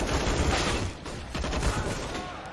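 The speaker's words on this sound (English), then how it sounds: "Good shot, Gratisfaction" Gunfire in a Counter-Strike match on the Mirage map, with dense rapid shots and bursts crackling continuously over a busy game mix.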